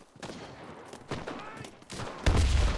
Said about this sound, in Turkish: El bombası patlaması bu kadar güzel olur mu?